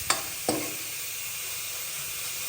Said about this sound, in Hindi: मसाला फ्राई हो गया है